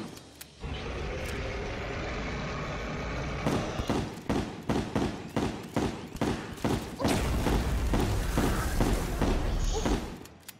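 Explosions from grenades in the video game Terraria, a dense run of sharp booming bursts in quick succession over a constant loud background, close and heavy.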